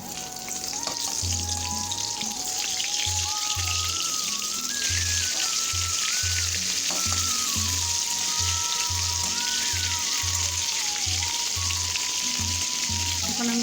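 Pointed gourd (potol) frying in a pan for a vegetarian potol masala, giving a steady, loud sizzle throughout with clattering from stirring and a faint background hum.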